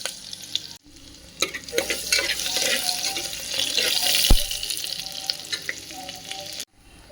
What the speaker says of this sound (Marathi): तर तेल गरम झालेलं आहे, तर आपण याच्यामध्ये टाकू लसूण, अद्रक आणि जिऱ्याची